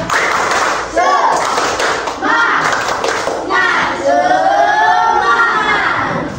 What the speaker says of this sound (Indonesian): Nah, kasih tepuk tangan ya.